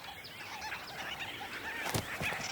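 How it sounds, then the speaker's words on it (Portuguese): A busy colony of African bee-eaters on the banks of the Luangwa River in Zambia, many birds chirping and trilling at once in a dense, overlapping chorus with a few louder calls standing out. "Uma colônia de abelharucos africanos se instalou nas margens do rio."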